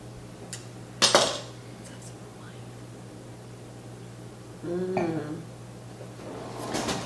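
Dishes clatter in a home kitchen as a larger bowl is pulled out, with a sharp clink near the start and a second rattle of crockery later, over a steady low hum.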